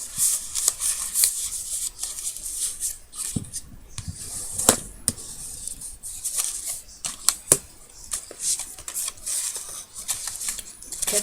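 Bone folder creasing folds in paper for a small craft box, with scraping, rustling strokes and sharp little taps in an irregular close-up rhythm.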